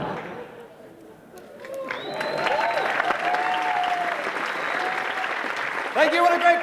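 A crowd at a 2002 International Jugglers' Association show bursts into steady, sustained clapping after a juggling act with an axe, cleaver and knife, rising quickly and holding full, with a few voices mixed in.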